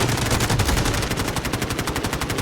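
Rapid automatic gunfire from the Delta Force Mobile video game on the Cyclone map, a dense, loud, continuous burst of many fast shots lasting the whole moment.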